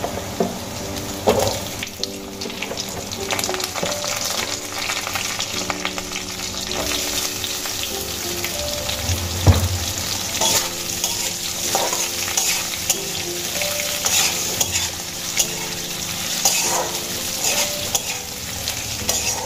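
Potato pieces frying with lightly fried ginger in a pan, a continuous sizzle with frequent stirring scrapes and clatter, close and steady the whole time.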